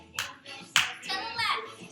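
A chair Zumba Gold class claps hands while marching; two sharp claps land about half a second apart over upbeat music and a voice.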